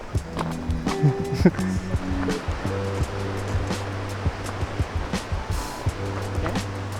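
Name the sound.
river flowing below a mountain hut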